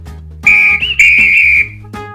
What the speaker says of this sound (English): Yellow color whistle.